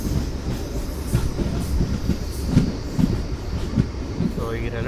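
A train pulls out of Basampalli station (BSPL) on the Anantapur to KSR Bengaluru route. It rumbles loudly and continuously, with the wheels giving a rhythmic clatter over the rails.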